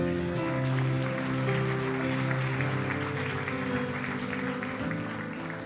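Sustained applause from a church congregation fills the room, steady and loud throughout, with music or organ tones sounding underneath.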